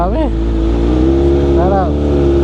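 Road traffic at an alay lakad pilgrimage walk in Pangasinan, with a steady loud engine drone and two rising-and-falling engine sweeps as vehicles pass close by, while someone talks over it.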